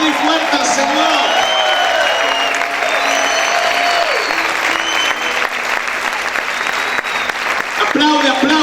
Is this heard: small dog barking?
no